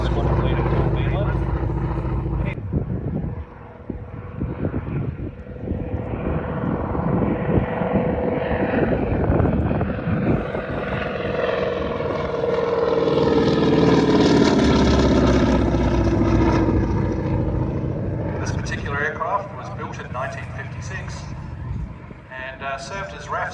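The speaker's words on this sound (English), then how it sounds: "This aircraft today being flown by Squadron Leader Paul Bennet." Aircraft serial A85-439, delivered in November 1956 and used for basic flight training, flies a display at the Serpentine Victoria Centenary Air Show. Its engine drone swells to a loud pass and then fades, under continuous public-address commentary.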